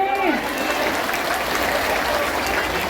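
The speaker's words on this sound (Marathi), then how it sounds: "मग टाळ्या कोण माझी" A large crowd of women at a rally applauds steadily, dense clapping holding at an even loudness throughout with faint voices mixed in.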